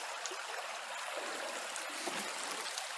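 Steady rushing water from a stream flowing through a wooded hidden valley in Sheldon, Washington, a constant broad wash close by with faint trickles, quiet and unbroken, no voices.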